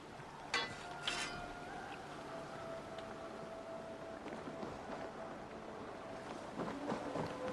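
A Viking longship sails in the game Assassin's Creed Valhalla, heard as a steady wash of wind and water with creaking tones and a few sharp knocks. A faint voice sits in the background.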